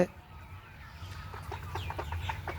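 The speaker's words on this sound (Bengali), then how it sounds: "এখানে আমাদের মুরগি" Chickens kept in a poly-covered coop cluck in short, repeated bursts at close range, with low background rumble and no clear talking.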